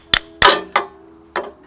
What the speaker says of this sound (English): And if it doesn't break apart, you can always use a hammer.